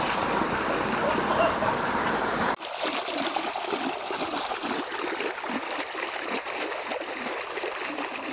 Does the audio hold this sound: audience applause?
no